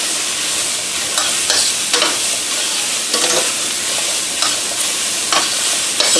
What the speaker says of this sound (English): I'm sauteing that around. Have that also on medium high.